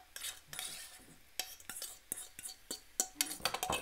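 Mashed potato being stirred into a pan of onions for Indian-style bubble and squeak: quiet, close scraping and clinking of a utensil against the pan in irregular strokes, with faint sizzling underneath.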